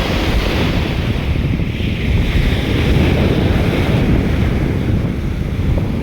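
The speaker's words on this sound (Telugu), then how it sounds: "చూసారా చాలా పెద్ద పెద్ద అలలు వస్తున్నాయి" Large ocean waves surge onto the beach at Salmiya Marina in Kuwait, a steady loud roar of surf mixed with wind buffeting the microphone throughout, with no voices.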